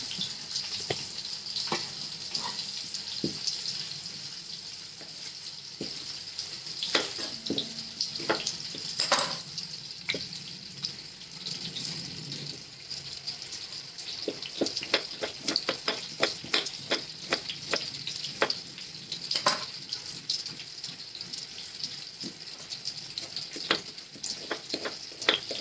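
Potatoes for dum aloo fry in hot oil, a steady close sizzle with scattered sharp clicks and occasional stirring scrapes running on without pause.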